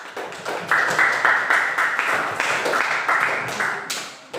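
A classroom full of students claps together, a dense, lively round of applause that holds steady for several seconds before tapering off, with no one speaking over it.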